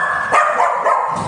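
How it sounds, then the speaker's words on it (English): A reactive female dog barks in excited, hectic bursts while bouncing around indoors, several loud, close barks and yips running back to back across the moment. "she's barking and she's bouncing around"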